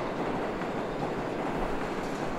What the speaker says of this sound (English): Let me wait for the subway to pass.